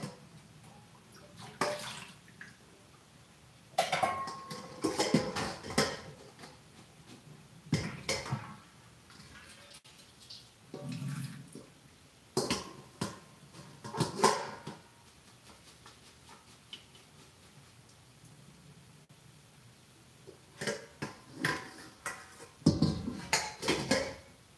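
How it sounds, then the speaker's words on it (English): Kale being washed at a kitchen sink, with intermittent bursts of running water and wet leaf handling, plus occasional clinks of dishes or utensils between quieter pauses. "That's how much I wash my kale."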